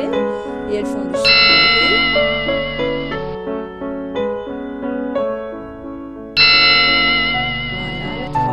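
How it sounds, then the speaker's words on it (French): Bright chiming bells ring out in repeated swells in an animated Christmas card, layered tones decaying and then struck again, loud and clear with no talking. "Nos cloches sont en train de chanceler et elles font du bruit."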